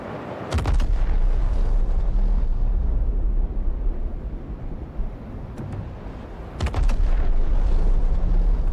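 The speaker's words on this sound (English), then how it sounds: "we'll observe the explosion from a close proximity" A loud, deep bomb explosion in the video game Star Citizen booms up close, followed by a rumbling roar and a second heavy blast a few seconds later.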